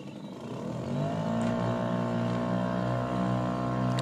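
A Yamaha Enduro 9.9 outboard boat engine revs up to a steady, loud drone with harmonic tones that climb slightly and then hold for several seconds, with no voices over it.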